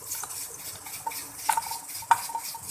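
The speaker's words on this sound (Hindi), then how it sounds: "ये देखें इसमें मैंने ऑनियन ऐड कर दिया।" Onions frying in a pan for chana dal fry while being stirred, soft sizzling under light scrapes and a few sharp clinks of a utensil against the pan, quiet and without speech.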